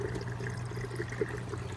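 Water drains from an aquaponics grow bed down into a 1.5 inch pipe, a steady close trickling pour with a faint gurgle partway through and no talk.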